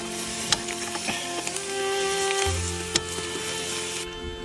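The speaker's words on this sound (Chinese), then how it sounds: "弄好的这个石头放进去。" Heated stones dropped into a pot of meat and dough buns for Mongolian stone-roasted meat, a loud hissing sizzle with sharp clacks of stone on metal, close up.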